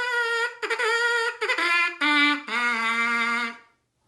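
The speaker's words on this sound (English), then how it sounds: "but if we buzz our lips into the mouthpiece," Lips buzzing into a trumpet mouthpiece with the instrument taken apart give a string of bright, reedy, trumpet-like tones. The pitch steps down across about five short notes, played close and clear with no talking.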